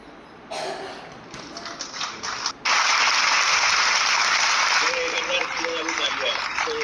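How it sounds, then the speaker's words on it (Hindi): Audience members in a session clap: a few scattered claps first, then a sudden loud, dense wave of applause that keeps going, with voices faintly heard near the end. "फटाफट सब लोग जोरदार क्लैपिंग हो जाए।"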